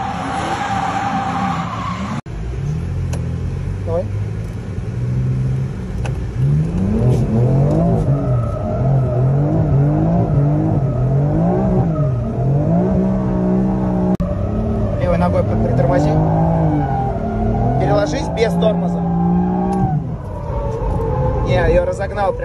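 A tuned drift car with steering lock and a locked differential revs hard and slides, engine note rising and falling in long sweeps with tire noise, loud and close throughout, with people talking over it.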